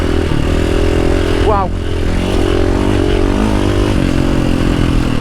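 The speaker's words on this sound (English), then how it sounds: "This is an enduro bike that's been converted into a rally bike." Enduro motorcycle converted into a rally bike, engine droning steadily and loudly up close, with a brief pitch sweep partway through and a voice speaking over it.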